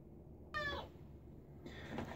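A single clear meow from a family cat indoors, rising and then trailing off, followed by soft rustling against a quiet background.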